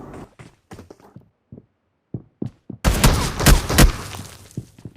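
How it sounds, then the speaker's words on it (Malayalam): Close-range AMR sniper rifle fire in BGMI/PUBG Mobile bursts in loudly after a stretch of light thumps and footsteps, with a couple of sharp, heavy shots ringing out amid a dense crackle of gunfire. "ഇവിടെ ഇപ്പോൾ നൈസ് ഒരു AMR ഷോട്ട് ഉണ്ട് കേട്ടോ, ക്ലോസ് റേഞ്ച്"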